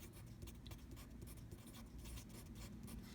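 Handwriting out a calculus integration problem by u-substitution, a steady, soft scratching of pen or pencil strokes running continuously at close range with no talk.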